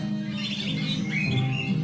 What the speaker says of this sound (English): It's relaxing to see all the different birds